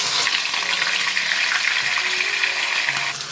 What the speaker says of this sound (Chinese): 接着把我们的鱼肉的这一面呢，先放下来煎，放下去千万不要去动它